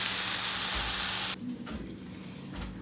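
Homemade hamburger patties frying one at a time in a home frying pan, giving a loud, steady broadband sizzle that drops abruptly to a quieter, softer crackle partway through.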